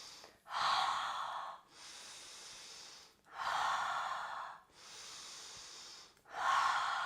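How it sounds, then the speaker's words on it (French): Continuous breathwork with no pause between inhale and exhale, alternating loud breathy inhalations and softer exhalations in a steady rhythm, close and alone, about five breaths in succession. "on va comme respirer en cercle fermé"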